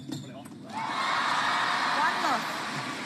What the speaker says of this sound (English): Already a big roar from the crowd.